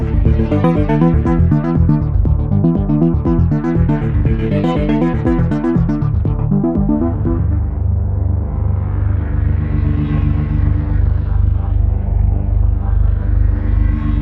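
A loud preset on the Neuzeit Warp additive and wavetable synthesizer plays a rhythmic run of bright sequenced notes, then settles into a sustained, slowly shifting pad.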